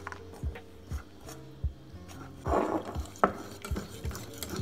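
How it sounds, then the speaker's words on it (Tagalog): Spoon stirring softened butter in a bowl until smooth, with repeated close scraping and knocking strokes against the bowl in an irregular rhythm and no voices. "We will mix this guys until our butter is smooth"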